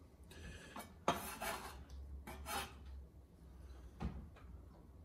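A knife rough-chops fresh cilantro on a cutting board, giving a few quiet, close thuds and soft scraping strokes spaced about a second apart.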